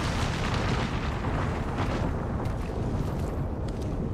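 Artillery strike explosions pound down in Apex Legends, a dense, continuous roar of booming blasts and rumbling debris that stays loud for the whole stretch with no voices.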